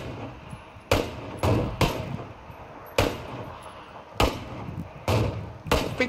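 Sharp gunshots ring out in the battle royale game PUBG, about eight single cracks spaced irregularly over a low steady background, each with a brief echoing tail.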